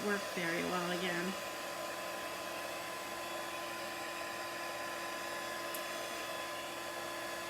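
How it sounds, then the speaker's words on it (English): A handheld heat tool drying a chalk paste transfer blows a steady, even whir with a constant motor hum throughout, after a brief voice at the start. "So I'm using my heat tool to dry this."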